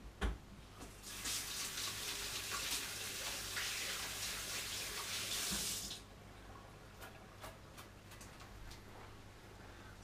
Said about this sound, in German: So, dann Hände waschen.